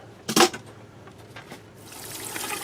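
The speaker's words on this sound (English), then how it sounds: "All I'm going to do is just put a little bit of water on them." Water poured briefly over alfalfa seeds for sprouting, a short splashy burst near the start followed by faint trickling and a soft running hiss building toward the end.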